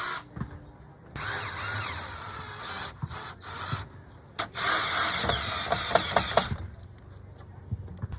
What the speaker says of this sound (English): And we just drive the screws right into there.